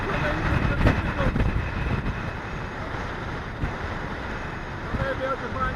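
Strong wind buffets the microphone on an exposed hilltop, a loud continuous roar with gusty surges throughout.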